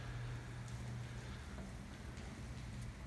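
Rain falls in a faint, steady, even hiss with soft patter, continuous and without other sounds.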